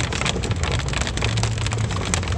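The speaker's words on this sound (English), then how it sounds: "Pretty big rain to me." Heavy rain pours down steadily, a dense, continuous hiss of drops pattering on surfaces with no voices, loud and close throughout.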